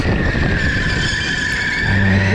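A go-kart slides around a corner with a loud, sustained tire screech over a steady engine roar, continuous and close throughout.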